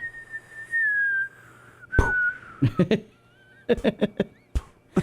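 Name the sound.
whistle imitating cartoon falling sound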